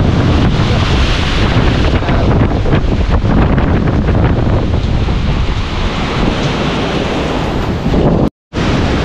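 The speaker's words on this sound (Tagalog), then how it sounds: "Ayan yung hangin." Strong, roaring super typhoon wind buffets the microphone continuously, with gusty broadband rush and a brief dropout near the end.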